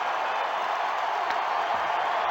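Tar Heel basketball fans at the 2005 NCAA championship game against Illinois cheer and clap as a steady, broad crowd roar that holds evenly throughout, with no clear voices standing out.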